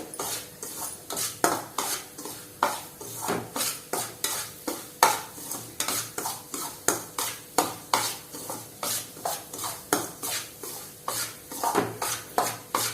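Semolina (rava) being dry-roasted in a pan for kesari, a steady rhythmic scrape of a spoon stirring against the metal pan, about two strokes per second, close and fairly loud with a faint sizzle beneath.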